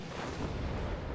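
Tank gunfire in the WARNO video game: a dense, loud barrage of booming artillery-like blasts rolling together continuously, with no talk.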